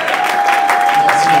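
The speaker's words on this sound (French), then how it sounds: "Merci d'acclamer." A church congregation applauding, a steady, dense wash of clapping with a steady tone running under it, loud and continuous for the whole moment.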